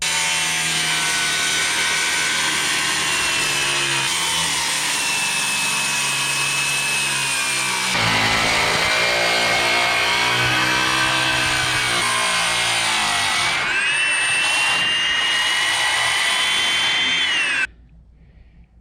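A circular skill saw bites into lumber for a 2.5-inch-deep cut on a small off-grid cabin build, its loud, close whine bogging and rising as the blade works through the wood before the motor cuts off abruptly.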